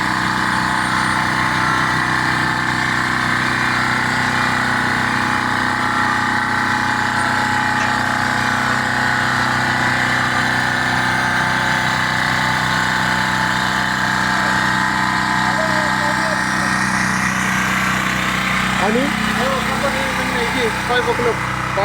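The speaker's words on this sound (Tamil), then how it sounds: "இந்த க்ரெயின் பார்த்துக்குங்க, 25 டன் வரைக்கும் தாங்குகிற க்ரெயினை வச்சு தூக்குறாங்க." A 25-ton crane's engine drones steadily and loudly while lifting a desert cabin, a continuous mechanical rumble that holds throughout with a slight shift near the end.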